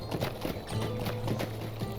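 A horse's hooves clip-clop in a fantasy adventure video game, with a rapid, uneven run of hoofbeats over low rumbling game ambience, loud and close.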